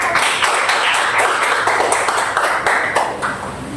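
A class of students claps their hands together in a classroom, a dense, steady patter of many hands close by with no talking over it.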